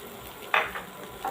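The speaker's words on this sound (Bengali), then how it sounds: "কিশমিশ বাদাম আমরা যদি একটু ঘিয়ে ভেজে নেই তাহলে কিন্তু ফ্লেভারটা দারুণ আসে" Raisins and nuts fry briefly in hot ghee, a sudden short sizzling burst followed by softer crackles and another small flare at the end, close and quiet with no talking.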